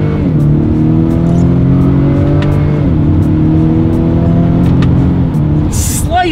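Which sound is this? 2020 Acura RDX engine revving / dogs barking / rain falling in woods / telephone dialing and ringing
2020 Acura RDX engine revving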